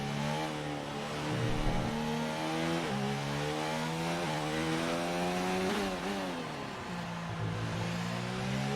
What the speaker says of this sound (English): He'll come down through the gears now into turn 13.